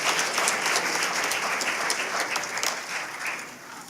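Steady applause from an audience at a school board business meeting, dense and continuous clapping with no voices over it, holding at an even level throughout.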